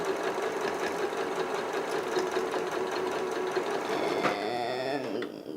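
A sewing machine runs steadily, stitching fabric for a hanging planter with a continuous close whirring hum that changes pitch near the end, then slows and stops.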